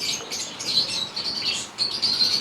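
Young doves in breeding cages, ready-to-breed ringed birds, give bursts of wing flapping mixed with high chirps and calls, continuous and fairly close with no talk.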